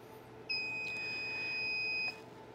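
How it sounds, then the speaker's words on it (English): A single steady electronic beep from a SmartOnline UPS at startup, clear and fairly loud, holding for about a second and a half over a quiet hum, then cutting off cleanly. "Press the On Test button and hold it for several seconds until you hear a beep."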